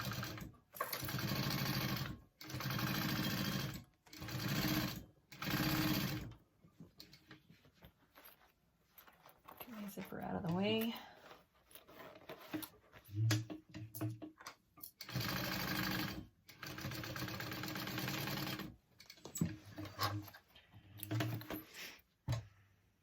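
Sewing machine top stitching a zipper pouch, running in several bursts of rapid whirring stitches separated by pauses, with fabric handling and a brief spoken remark in between.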